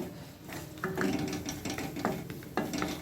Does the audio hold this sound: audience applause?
no